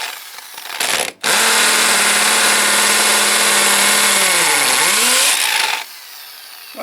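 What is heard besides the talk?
drill boring through brick wall for PEX pipe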